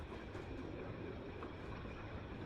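A train rolling on tracks in a Danganronpa fan video game, a steady, dense rumble with continuous rail noise and no clear breaks, heard alone at moderate level.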